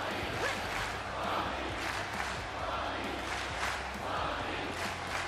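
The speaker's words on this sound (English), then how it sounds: "the crowd chants are dope." Dense, steady crowd roar and chanting from the AEW Fight Forever wrestling game, a continuous wall of voices swelling slightly in waves, with a faint voice speaking underneath.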